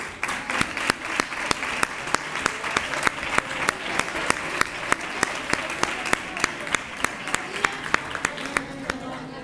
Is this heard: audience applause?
yes